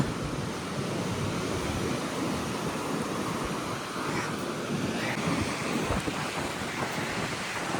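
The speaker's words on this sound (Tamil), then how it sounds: "இங்கே பாருங்க அலைய" Sea waves wash steadily against the shore in a continuous roar during a low-pressure storm surge, mixed with gusting wind buffeting the microphone.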